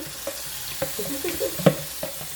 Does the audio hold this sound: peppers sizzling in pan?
yes